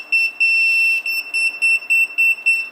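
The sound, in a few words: Retekess T119 wireless restaurant pager beeping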